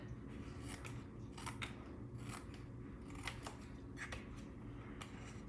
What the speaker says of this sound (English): grab your scissors and you're just gonna snip